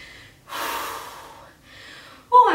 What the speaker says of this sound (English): Oh, I'm still breathing from those squats.